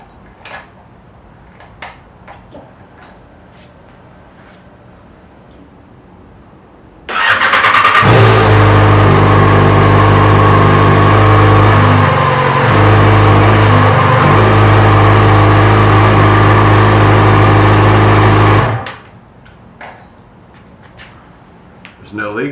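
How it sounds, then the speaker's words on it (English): Yamaha FZ6R motorcycle with a swapped exhaust starting up and idling steadily for about ten seconds, loud and close, with a brief dip midway before it shuts off into quiet. "we're going to start the bike to make sure there's no leaks in the exhaust"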